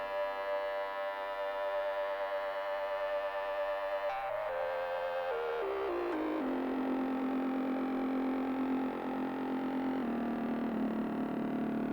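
A synthesizer tone runs through a chorus pedal with LFO modulation, sustained and harmonically rich, its pitch stepping and sliding downward midway before settling into a steady, wavering drone for the remaining seconds.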